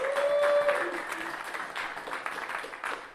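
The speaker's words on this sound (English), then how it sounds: "Let's give him a round of applause, please." An audience claps to welcome a guest speaker at a talk, a moderately loud wash of applause with a voice briefly audible at the start.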